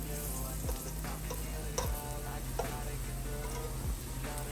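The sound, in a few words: banana fritters frying in a pan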